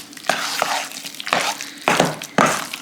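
Beaten egg being mixed into lasagna roll-up filling in a bowl, heard as several close, scraping stirring strokes in irregular bursts with short pauses between them.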